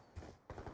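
Two quick shotgun blasts from an R870 shotgun in a video game, close and punchy, spaced about a third of a second apart.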